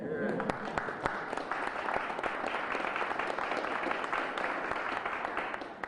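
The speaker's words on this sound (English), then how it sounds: "And you can applaud that." Audience applause at a Springfield city ceremony honoring Black American Heritage Month, a steady wash of clapping across a large room with some voices mixed in, holding fairly even throughout.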